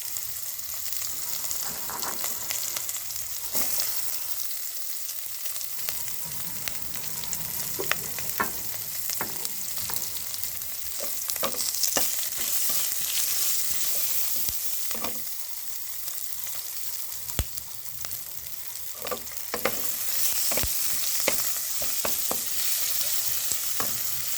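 Onions and green chillies frying in oil with bay leaves for a Bengali greens dish, a constant crackling sizzle broken by repeated scraping stirs and clicks of a spatula against the pan, close and busy, no talking.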